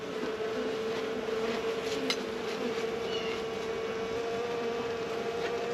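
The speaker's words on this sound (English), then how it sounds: "This should make some interesting noisy footage of these little bees humming around" Honeybees hum around a hive in a dense, continuous buzz, close and steady throughout, with a few louder passes of single bees and no voices.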